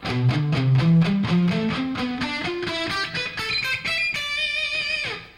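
A distorted electric guitar plays a quick run of single notes stepping up through a scale, ending on a sustained, ringing high note.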